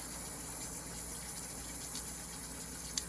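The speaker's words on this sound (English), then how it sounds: "The bubbling is fine. That's the moisture inside the potato cooking out." Steady, dense bubbling and hissing of potatoes deep frying in hot oil, continuous and close, with a faint click near the end.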